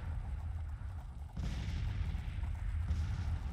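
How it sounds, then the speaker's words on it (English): Artillery cannon fire in the Civil War strategy game Grand Tactician, a run of low, rumbling booms, one sharper blast near the middle, over a steady battle din with no talking. "Have you fire on these two artillery battalions out here."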